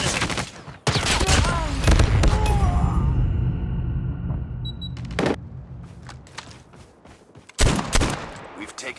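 Shotgun fire in the Call of Duty Mobile video game comes as loud, booming blasts: a dense run of shots early on, then single heavy reports further apart, with brief in-game voice callouts between them.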